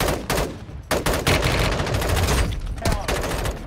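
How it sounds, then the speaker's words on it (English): Gunfire in the Warzone Mobile shooter game, several loud bursts of automatic shots broken by brief pauses, close and sharp, with no talking. "Who's shooting at me?"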